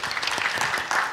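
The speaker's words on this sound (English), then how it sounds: "Can we have a round of claps for the team out here?" An audience at a panel discussion on customer experience applauds, a dense burst of clapping that lasts about a second, close and fairly loud.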